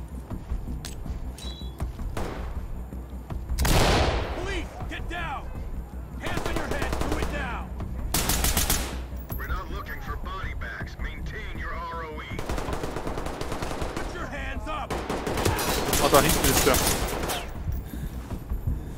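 Gunfire in the tactical shooter Ready or Not, with loud single shots and short bursts scattered across a tense stretch, plus mechanical clicks and creaks between them and voices talking at times.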